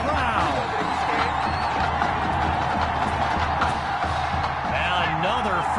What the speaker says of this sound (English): A big-time play that gets a roar from this crowd.